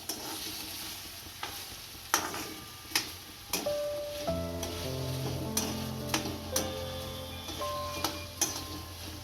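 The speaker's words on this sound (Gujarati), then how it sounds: "વટાણા સતળાઈ દઈશું." Peas sautéing with tomatoes in a pan for a peas and capsicum curry give a steady sizzle, broken by regular scraping clicks of a spoon stirring roughly once a second.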